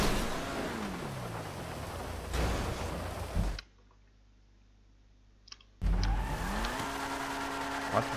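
Car engine revving during a GTA V race, a continuous mid-pitched motor drone with rising and falling pitch sweeps, cutting out abruptly for about two seconds before returning at full loudness.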